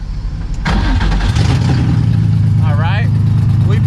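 A Nissan S13 car engine that had just stalled cranks and restarts about a second in, then settles into a loud, close, steady idle while a voice speaks briefly over it.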